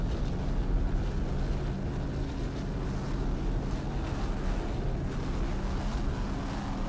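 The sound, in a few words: 38-foot Skater powerboat, Mercury powered, throttling in offshore race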